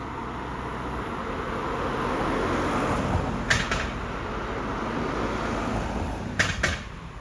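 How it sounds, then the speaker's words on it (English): A car passes on a main road near roadworks, a broad steady roar of tyres and engine swelling slowly across the scene, with a couple of brief sharp clicks near the end. "Very considerate car coming past then"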